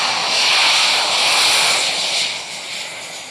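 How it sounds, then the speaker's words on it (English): A Czech Air Force L-159 Alca jet taxiing at an airshow fills the air with a loud, steady turbine whine and roar that holds strong, then eases slightly toward the end. "So the 159 is going to taxi to the end of the runway."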